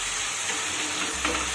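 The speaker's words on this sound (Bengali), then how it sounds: "ধীরে ধীরে একটু সময় নিয়ে কষাতে হবে যতক্ষণ না মশলাগুলোর কাঁচা গন্ধটা চলে যায়" Spices sautéing in oil in a pan while being stirred, cooking for mugeshwari potol with moong dal and pointed gourd; a steady close sizzle and fry runs throughout, with a faint stir scrape near the end.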